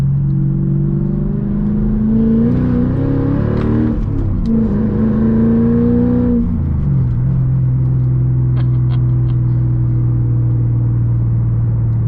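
Manual-swapped Mercedes E55 AMG engine heard from inside while driving, a deep loud rumble rising in pitch through revs, dropping at a shift, then settling into a steady low drone.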